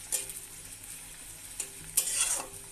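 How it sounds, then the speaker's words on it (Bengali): Onion and garlic fry in oil in a karai for a lentil tempering, a quiet sizzle under scattered scraping stirs, with a brief burst of louder hissing near the end. "এবার আমি সুন্দর করে এটা ভেজে নিব।"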